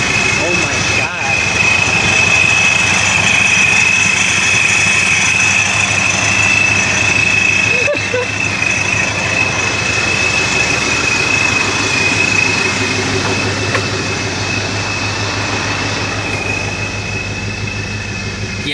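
Supercharged New Edge Mustang GT with a Vortech V1 Ti-Trim blower, running rich and untuned, drones loud and steady throughout, a constant low engine rumble with a supercharger whine on top.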